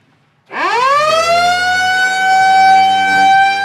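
Siren on a vintage car, new-old-stock unit, winding up from a low growl to a loud steady wail that holds near and strong, with no talk over it.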